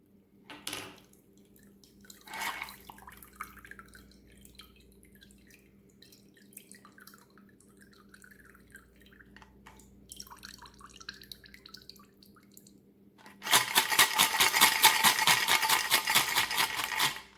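Water pours into a glass of ice in a steady rush near the end, after a long stretch of faint drips and small clinks, while mixing a cosmopolitan cocktail.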